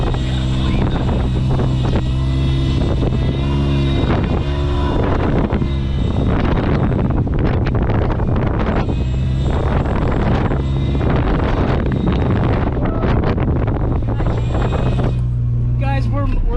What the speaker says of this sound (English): we're mobbing through here with three-wheel drive. It's working.